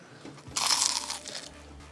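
A single crisp, loud crunch of biting into a smash burger stuffed with super crispy onion rings, close and brief, with no talking.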